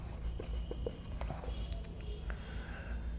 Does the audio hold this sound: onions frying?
no